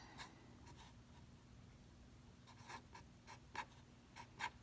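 Pen or pencil writing out a math expression on paper, with faint, close scratchy strokes in short irregular bursts over a quiet room.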